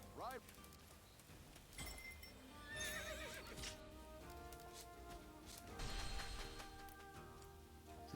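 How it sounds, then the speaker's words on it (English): A horse whinnies loudly in Dynasty Warriors Origins, followed by a second neigh and the clatter of hooves, all set in a busy game soundscape with sustained musical tones and occasional talk. "We get ourselves our horse."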